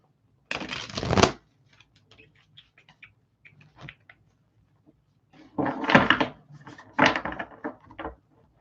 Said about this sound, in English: Let's do 2 more shuffles here.